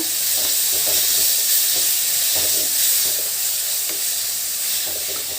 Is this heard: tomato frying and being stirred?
yes